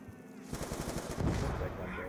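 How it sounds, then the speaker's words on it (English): An automatic gun fires in Black Ops 2 Zombies on the Town map. Short rapid bursts of game gunfire crackle over a busy background. "there was an automatic gun from Black Ops One"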